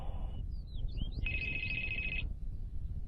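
A telephone rings with a steady electronic trill for about a second, following a few short warbling chirps, over a low background rumble.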